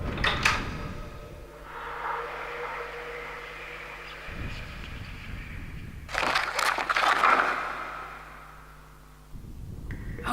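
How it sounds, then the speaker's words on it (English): A heavy door creaks and scrapes open amid an eerie low drone in the Dark Fall horror adventure game, with a louder grinding burst partway through; no talking. "I've got to open the door."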